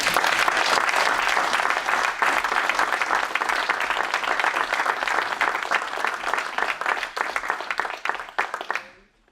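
Full, steady applause from regional council members and mayors after a prefect is elected by acclamation, dense clapping held for several seconds before fading out abruptly.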